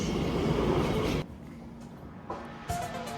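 Interior of a nine-coach TfL Rail train heading toward Romford, with a loud steady rumble of running that drops to a quieter hum partway through, then a brief rise and a short tonal whine near the end.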